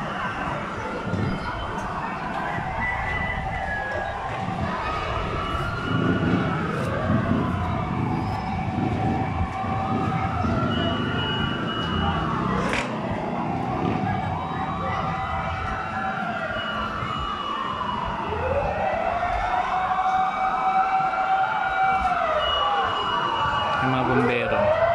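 Fire truck sirens wail in long rising and falling sweeps, arriving at an industrial compound fire in Western Bicutan, Taguig, growing nearer over a rumbling street, with people talking in the background.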